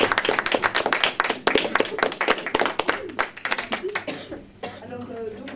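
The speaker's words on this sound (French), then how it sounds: "On l'applaudit bien fort." A theatre audience applauds Béatrice Dominguez on stage with dense, steady clapping that carries on for several seconds, then thins out as a voice takes over.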